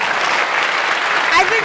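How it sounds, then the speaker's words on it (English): Dense audience applause at a hacker conference talk, a steady broadband patter of many hands clapping that holds throughout, with a brief whistle or cheer rising near the end. "I want you guys to give him a big round of applause"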